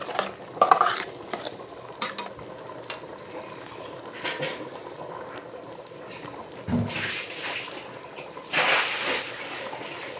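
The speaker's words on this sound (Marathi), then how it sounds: "त्यात आता कांदा कोथमीर वाटलेली ती थोडेसे आधी टाकून मिक्स करून घेते" Ground onion and coriander paste stirred into a pot of spicy chicken curry on a wood-fired clay stove: intermittent scraping and clattering stirs with a faint sizzle, broken by quieter pauses.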